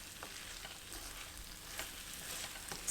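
Pepper paste filling with spices fries softly in a pan as it is stirred, a faint continuous sizzle with occasional light scrapes, close and without talk.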